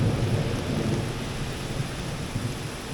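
Thunder rolls from a lightning strike about three quarters of a mile away, a steady low rumble with rain falling throughout, loud and fairly continuous without distinct cracks.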